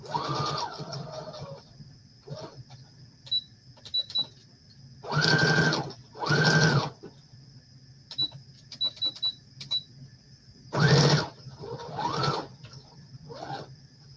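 A sewing machine runs in several short bursts, stitching around a tea bag image. Between runs come quieter whirs and faint clicks.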